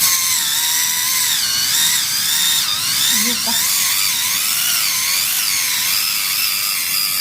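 A battery-powered electric callus remover running close by: a continuous, high-pitched motor whine with a slightly wavering pitch that holds steady across the whole stretch.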